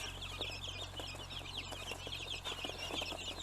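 A group of 25-day-old chicks, Splash Wyandotte, Indian and GSG, cheep continuously in a busy overlapping chorus of high peeps over a low steady hum, with no talking.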